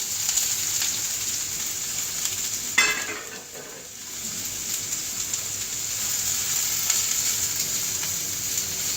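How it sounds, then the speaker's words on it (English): Sautéed vegetables frying in a second pan, a fairly quiet steady sizzle with a sudden louder hiss burst early on as they hit the heat, then settling into a constant crackle. "we're going to put our veggies, our sauteed veggies, in another pan and get those going"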